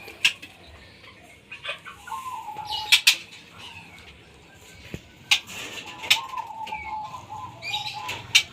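Murai batu (white-rumped shama) birds in a breeding cage: short chirps and sharp calls scattered over rustling and wing flutters, fairly close, over a low background murmur.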